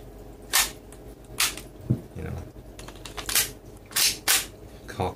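A Tokyo Marui Glock 17 Gen 3 airsoft pistol is handled and cocked, giving a series of sharp close clicks and clacks spaced irregularly, a couple of them louder snaps, with no talking.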